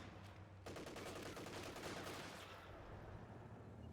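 Machine gun fire in the real-time strategy game Company of Heroes 2, a dense sustained burst of rapid shots under game battle noise, with quieter gunfire fading in the background.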